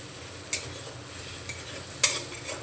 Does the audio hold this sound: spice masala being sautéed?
yes